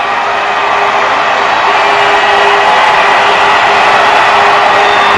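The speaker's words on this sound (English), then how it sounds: "And listen to the crowd. They know it's about to happen in 30 seconds from now." A huge crowd in Times Square awaiting the New Year ball drop, a dense, steady roar of cheering and shouting that stays loud and continuous throughout.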